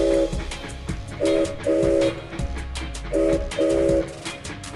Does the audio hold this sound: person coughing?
no